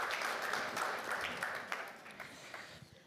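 Applause from the audience at an award ceremony, a broad burst of many hands clapping that starts fairly full and gradually thins, with scattered individual claps near the end.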